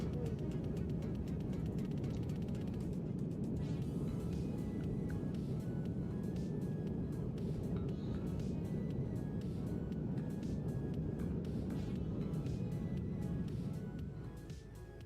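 Engine roar from a simulated A321 using reverse thrust on landing in X-Plane 11, a loud, steady broadband rumble that holds throughout before easing slightly at the end.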